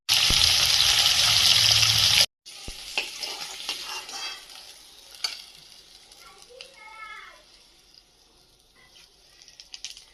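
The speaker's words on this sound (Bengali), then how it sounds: "তার আগে আমি মাছটা ভেজে নিই" Katla fish frying in hot oil in a wok makes a loud, dense sizzle for about two seconds, then cuts off abruptly to a much quieter crackle with scattered light clinks and faint background sounds.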